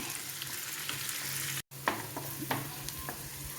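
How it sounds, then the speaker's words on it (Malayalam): Onions sautéing in a pan for a home-style chicken roast, a steady close sizzle with a brief dropout partway and scattered scraping stirs of a spoon against the pan. "ഇനി നമുക്ക് ഈ സവാളയൊന്ന് വഴറ്റിയെടുക്കാം"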